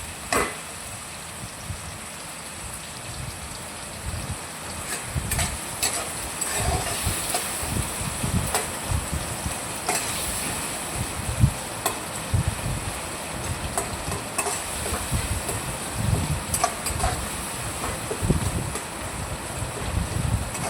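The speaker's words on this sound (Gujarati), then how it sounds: "હલાવતું રહેવાનું છે એટલે આપણું તેલમાં ચોટે નહીં અને સરસ રીતે ચડી જાય" Pasta frying in oil crackles and sizzles steadily, with scraping and irregular stirring knocks from a spoon against the pan recurring throughout at close range.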